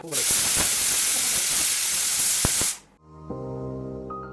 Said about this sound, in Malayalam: അപ്പോൾ കുക്കർ 1 വിസിൽ കഴിഞ്ഞു.